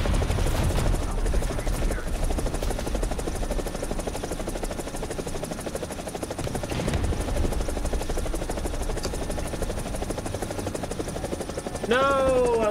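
An AB 205 helicopter in a flight simulator game, its rotor and turbine engine keeping up a dense, loud, continuous throbbing whine through the whole stretch, with a rising electronic tone near the end.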